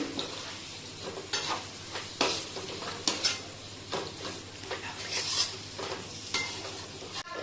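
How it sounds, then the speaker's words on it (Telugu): Onions and tomatoes stirred in frying oil in a kadai for a masala tomato curry, a steady close sizzle broken by repeated scraping stirs and occasional clinks of a spoon against the pan. "ఇలా నూనె పైకి వచ్చిన తర్వాత లావుగా కోసుకున్న ఆనియన్స్ని, టమోటాస్ వేసుకోవాలి. టమోటాస్ని బాగా కలుపుకొని"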